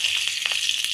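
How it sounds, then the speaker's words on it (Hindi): Two spoons of pure ghee heating in a kadhai for sooji laddoo give a steady, close frying hiss with faint crackles throughout, and no talking. "एक हमने कढ़ाई ले ली, उसमें हम 2 चम्मच असली घी डाल रहे हैं"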